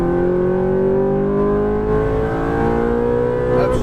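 A Ferrari F430 engine on a race track screams under full throttle, its loud, rising whine climbing steadily in pitch for several seconds.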